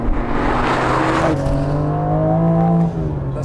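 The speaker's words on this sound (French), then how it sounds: "vous avez un silencieux qui est en titane. Et ça apporte un bruit beaucoup plus rauque" A BMW M4 CSL with 550 horsepower and a titanium exhaust silencer gives a raspy, throaty engine roar that swells and then climbs in pitch under acceleration, loud and steady, with no talking.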